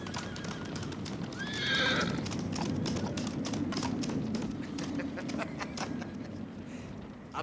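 A herd of horses gallops in a steady drumming clatter of hooves that runs throughout, with a loud whinny rising over it near the start.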